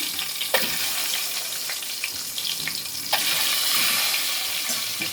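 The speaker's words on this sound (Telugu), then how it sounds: "దీంట్లో ఒక్కొక్క ఎగ్స్ వదులుదాం." Eggs dropped one at a time into hot oil seasoned with turmeric and salt, giving a steady close sizzle and crackle that swells louder near the middle and keeps hissing to the end, with no voices.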